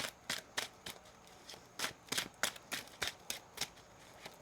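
Crisp riffling bursts of tarot cards being shuffled, a quick irregular series of about a dozen sharp flutters, close and clear with no talking.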